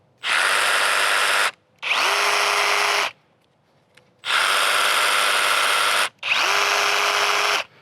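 A Milwaukee power tool, set to a higher speed, runs in four loud bursts of a second or two each, with short pauses between; some bursts rise to a steady whine.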